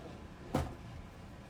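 A desk drawer being pulled open to reach a container of glue, a single short thump-and-slide lasting about a tenth of a second, close by in a quiet room.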